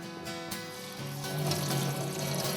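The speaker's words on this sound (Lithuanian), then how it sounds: "juos supilam į kiaurasamtį ir 2-3 minutės perplaunam po šaltu vandeniu" Cold tap water runs steadily over rice in a colander, a continuous close pouring and trickling rush that swells slightly louder midway, with no talk.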